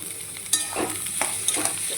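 Green tomatoes go into a pan of frying onion and garlic, bringing a steady close sizzle broken by a few scraping stirs of a spoon against the pan.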